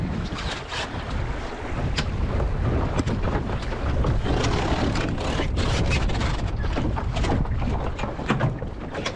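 Wind buffets a small sailboat during a tack, a steady, loud rush with microphone gusting and water wash throughout, no talking.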